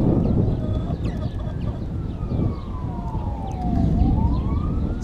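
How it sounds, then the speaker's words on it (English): A fire engine siren wails outside as a storm arrives near a lake, its rising and falling sweeps moderately distant beneath a steady roar of wind and weather. "Uh-oh, sounds like the fire department's been called for something."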